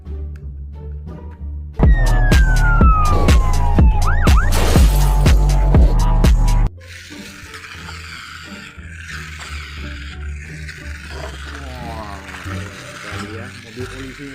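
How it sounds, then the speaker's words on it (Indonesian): A toy police patrol car blares a loud electronic siren with sweeping tones over rhythmic pulses for several seconds, then cuts off, leaving quieter rattling and handling noise. "Wah, kita menemukan mobil patroli polisi teman-teman. Coba kita nyalakan ya."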